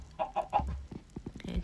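Chickens in the Minecraft video game cluck in quick short bursts, several blocky clucks in a row followed by a few more scattered ones, moderately loud and heard alone.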